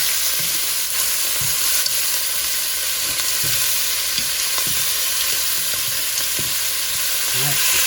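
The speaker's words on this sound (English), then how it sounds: "You get a good brown sear on it." Oxtail pieces searing in a hot pan, a steady close sizzle and crackle with occasional soft clicks of the meat being moved, with no talking.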